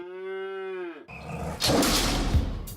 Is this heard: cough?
no